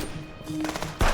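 Gunfire in the police video game Contraband Police, a couple of sharp bursts with a loud close shot at the end, standing out over a steady background hum.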